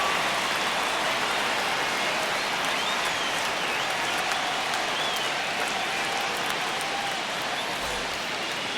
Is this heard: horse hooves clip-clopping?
no